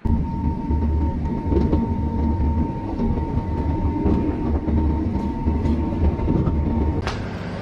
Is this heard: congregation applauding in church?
no